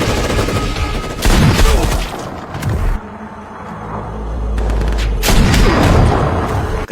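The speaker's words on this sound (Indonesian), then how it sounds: "salah satu anak buah Shellback yang seorang sniper mampu menumbangkan beberapa penjahat" Gunfire in an action film scene involving a sniper, with bursts of loud booming shots and rumbling blasts in two dense stretches separated by a quieter, low-rumbling pause.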